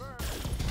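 Mech weapons fire in the Battletech video game, a brief loud blast of booming gunfire cutting in after a short moment of game sound.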